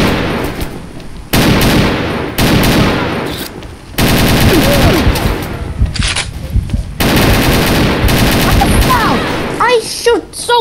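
Machine gun fire in the shooter game Mission Against Terror, loud sustained bursts lasting a second or more each, separated by short gaps, with brief voices near the end.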